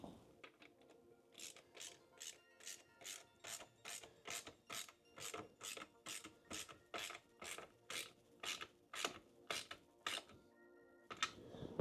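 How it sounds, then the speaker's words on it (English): A 13mm socket ratchet tightens the exhaust bracket bolts while an Akrapovic titanium exhaust is fitted to a BMW R1300 GS, clicking in about twenty even, close bursts of rapid pawl ticks, one after another. "And then we'll get the 13mm socket. We'll start to nip up the bottom bracket."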